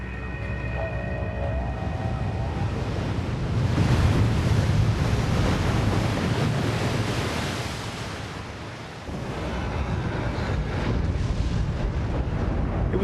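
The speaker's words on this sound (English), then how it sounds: "It's the biggest waves we ever saw in our life. This was 35 to 40-foot surf." Huge Hawaiian ocean surf, 35 to 40 feet, breaks in a continuous heavy roar with a swelling crash in the middle. Strong wind buffets the microphone throughout, and no voices are heard.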